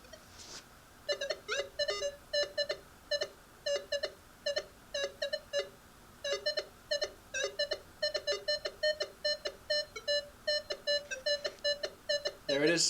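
Minelab Equinox 800 metal detector in Park 2 mode picking up a penny beneath a nail: rapid, loud clusters of high electronic beeps and chirps repeating in bursts, near and continuous with no talk.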